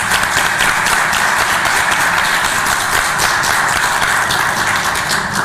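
Steady, dense applause from an audience at a book presentation in the Mexican Senate, continuous and loud with rapid overlapping claps from start to finish.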